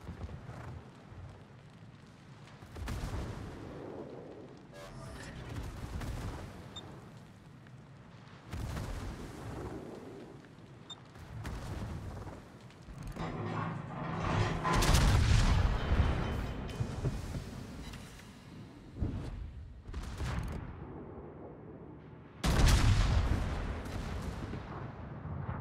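Heavy naval gun salvos from the Tier 8 British battleship HMS Hawke in World of Warships, several loud booming volleys spaced across the stretch, each with a rolling rumble, over continuous ship and battle ambience.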